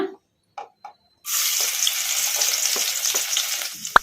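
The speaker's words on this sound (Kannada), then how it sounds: "ಎಣ್ಣೆ ಕೂಡ ಬಿಸಿಯಾಗಿದೆ ಈಗ ಇದಕ್ಕೆ ನಾವು ಕಟ್ ಮಾಡಿ ಇಟ್ಕೊಂಡಿದ್ವಲ್ಲ ಸಣ್ಣದಾಗಿ ಬೆಳ್ಳುಳ್ಳಿ ಈಗ ಇದನ್ನು ಹಾಕೋಣ" Finely chopped garlic dropped into hot oil in a kadai for egg fried rice bursts into a loud, close, continuous sizzle after a few soft clinks.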